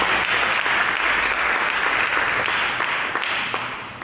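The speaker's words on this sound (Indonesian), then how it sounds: "Berikan tepuk tangan bagi Yesus Kristus." Loud, sustained applause from a large church congregation, steady clapping throughout that eases off slightly at the end.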